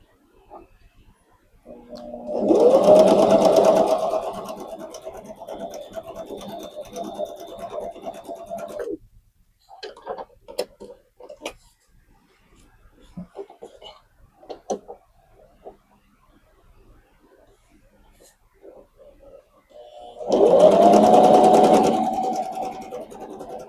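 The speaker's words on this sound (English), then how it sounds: "we are going to stitch down both sides." A sewing machine stitches down both long sides of a fabric strip for a hanging kitchen towel, running in two loud, steady bursts with a quieter stretch of fabric handling and small clicks in between.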